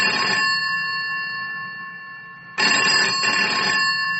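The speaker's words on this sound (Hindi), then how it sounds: "वो नहा ही रहा था कि उसके कमरे का फोन बजा।" A room telephone rings with a bright electronic trill, one long burst trailing off then a second burst starting after a pause, loud and close with no voices.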